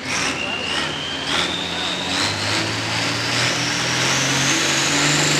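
A turbocharged pro field class pulling tractor with one 3-inch turbocharger, limited to 3,000 RPM, roars at a Mound City, Kansas tractor pull, with a loud, sustained engine drone and a rising turbo whine under an announcer's voice.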